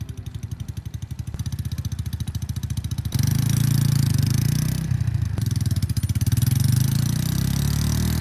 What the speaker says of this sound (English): The engine is actually starting to sound a little bit weird too